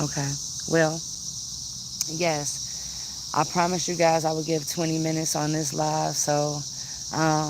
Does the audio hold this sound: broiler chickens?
no